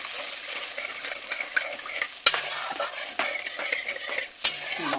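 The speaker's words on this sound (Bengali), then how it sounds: "আমি এখন এই মশলাটাকে ভালো করে কষিয়ে নেবো" Spice paste fries in oil with a soft, crackling sizzle while a metal spatula scrapes and stirs it. Two sharp clanks against the pan stand out above the frying.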